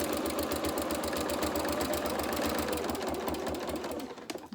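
A sewing machine stitches a fabric advent calendar up to a corner, running in a fast, even whir of needle strokes for about four seconds before slowing and stopping.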